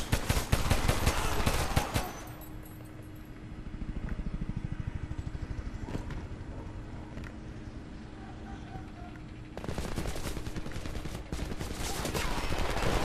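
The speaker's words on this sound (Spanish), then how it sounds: "Ametralladora en la ventana de la segunda planta." Machine gun fire in the first-person shooter Homefront: loud rapid automatic bursts at the start, a quieter stretch of distant shots and engine rumble, then heavy sustained gunfire returning near the end.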